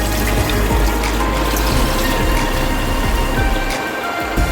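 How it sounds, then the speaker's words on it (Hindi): Milk poured into a pan for boiling, a dense continuous splashing and rushing close by with a low rumbling undertone, steady from start to finish. "ये मैं दूध इसमें डाल रही हूँ, ये देखिए दूध मैं इसमें डाल रही हूँ।"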